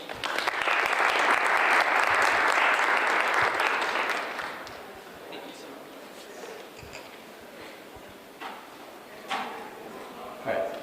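Audience applause welcoming lecturer Andrew Kudless at an architecture lecture, a loud sustained round of clapping for about four seconds that fades into scattered room noise and brief voices.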